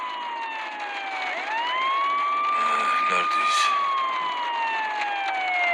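An ambulance siren wails, sweeping up and down continuously, loud and close, with a man's brief speech over it.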